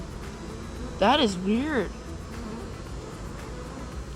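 Honey bees buzz around an open hive with oddly built comb, a soft steady hum kept low in the background, while someone speaks briefly over it.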